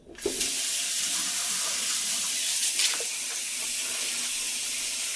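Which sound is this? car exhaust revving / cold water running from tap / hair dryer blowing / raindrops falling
cold water running from tap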